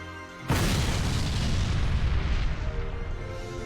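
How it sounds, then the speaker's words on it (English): A booming explosion in the video game Valkyria Chronicles 4 bursts in suddenly after a quiet moment, then a long loud rumbling decay rolls on for several seconds, with no speech. "That was a tiny explosion."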